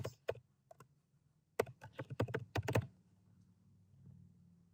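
Typing on a computer keyboard, a few isolated key clicks followed by a quick burst of close, crisp keystrokes, then quiet.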